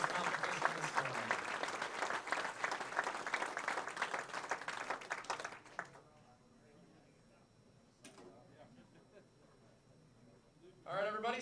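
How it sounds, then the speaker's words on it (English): Spectators at a state high school bowling championship applaud the boys' singles finalists, a loud round of clapping that fades out after about six seconds into a quiet hall with a few scattered sounds and a final rustle. "let's get one last round of applause for all of our boys finalists"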